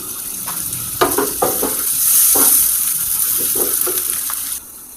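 Finely chopped onions fry in a hot pan, softening without browning, as a steady sizzle plays under repeated scraping strokes of a spoon stirring them close up for chicken noodles.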